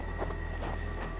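Horse hooves clip-clopping in the Western video game Hard West 2, a brief run of soft, quiet hoof clops over a low steady hum.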